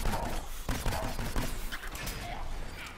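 Rapid bursts of gunfire in the video game Plants vs. Zombies: Garden Warfare 2, dense and continuous with mixed impact and crash sounds layered over one another.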